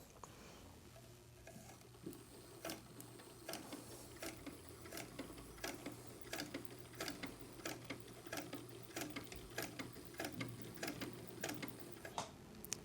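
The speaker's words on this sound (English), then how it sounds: "This right here is what you press with your foot to make it sew." A vintage 1940 Singer 66-16 sewing machine runs steadily at close range, its needle mechanism ticking in a quick, regular rhythm over a low motor hum for about thirteen seconds, with no voices.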